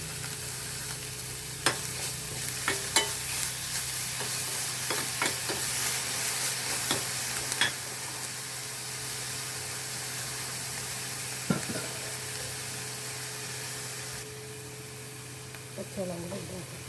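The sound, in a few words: sautéing and stirring in a pan for tuna curry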